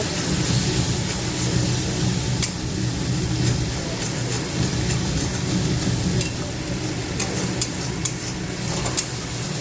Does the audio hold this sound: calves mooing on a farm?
no